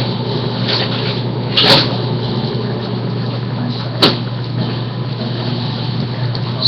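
A freezer door shuts after spare steak and fries are put away, giving two short soft thuds, the second sharper, over a steady appliance hum.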